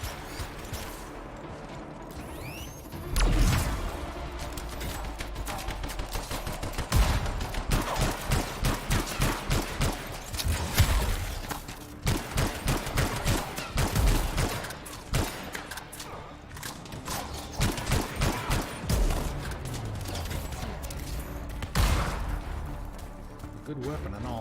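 Rapid bursts of automatic gunfire from turrets in the Anthem video game, repeating in dense volleys over a continuous loud mix of game sounds and voices.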